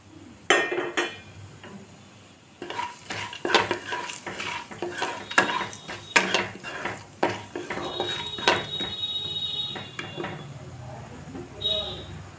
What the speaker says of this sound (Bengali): তেলটা গরম হলে এর মধ্যে স্টার এলিন, দারচিনি, 4টে এলাচ, একটু 1 চামচ জিরে আমি এটা তেলের মধ্যে ফোড়ন দিলাম।